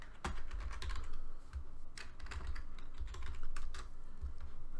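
Typing on a computer keyboard while setting up a GTA V mods folder, with a steady run of close, crisp key clicks and occasional heavier strokes over low background hum.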